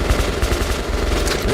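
A short burst of rapid, sustained gunfire from the video game Metro, with dense back-to-back shots filling the moment, loud and close, with no voices over it.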